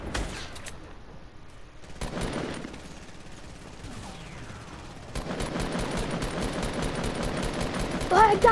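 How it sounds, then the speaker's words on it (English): Sustained automatic suppressing fire in Fortnite, several rapid bursts and a long continuous stream of shots at moderate volume, with talk mixed in. "I guess I was laying down too much suppressing fire."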